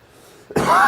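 A single short, harsh cough bursts out abruptly after a moment of near silence, close and loud.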